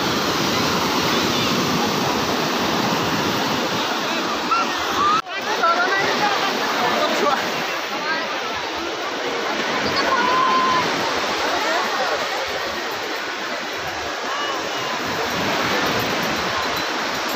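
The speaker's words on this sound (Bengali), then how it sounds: "এই হলো সমুদ্র" Sea waves rolling in at Puri beach, a broad continuous roar of surf that stays steady and fairly loud throughout, with no clear individual breaks standing out.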